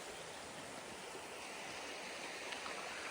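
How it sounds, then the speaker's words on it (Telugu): Steady flowing stream water at the Polama Holiday Resort in the forest near Maredumilli, Rampachodavaram, a soft, continuous broadband rush with no voices. "అసలు ఆ వాటర్ సౌండ్ ఇక్కడ బాగా ఎంత ప్రశాంతంగా ఉందో"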